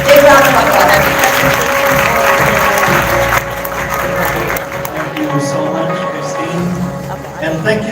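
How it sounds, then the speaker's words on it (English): Seminar audience applauding as a speaker is welcomed on stage, a dense, loud wash of clapping with light cheering that holds steady, then thins slightly in the second half. "Big round of applause."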